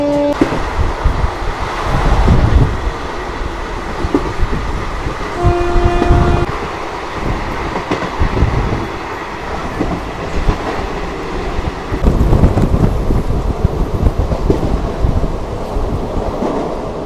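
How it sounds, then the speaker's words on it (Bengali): Jangipur Road Express train pulling out of Lalbagh Court Road station, a continuous rumble and rattle of wheels on track with brief horn notes early on, loud and close throughout. "ট্রেন ছেড়ে দিল লালবাগ কোর্ট রেলওয়ে স্টেশন থেকে"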